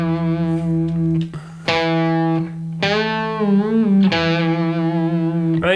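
Electric guitar with distortion playing string bends from a song: sustained overdriven notes that bend up, release and bend again, with a short gap partway through, played alone and close.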